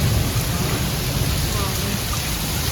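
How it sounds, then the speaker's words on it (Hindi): Heavy rain mixed with falling hail pours down steadily onto a lawn and drain, forming a dense, unbroken roar at close range with no clear pauses. "देख सकते हैं कितनी तेज बारिश हो रही है, ओले गिर रहे हैं।"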